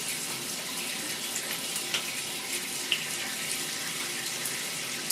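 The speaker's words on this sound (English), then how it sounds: "Let me do a light rinse" Tap water runs steadily into a sink for rinsing after a shave, a constant close hiss and splash with small drips and clinks, no voices.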